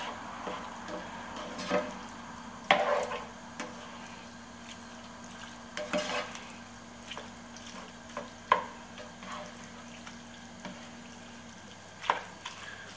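Beef mince mixed with mustard is stirred in a bowl, giving soft, wet squishing and scraping sounds in irregular bursts, quiet and close, with no voices.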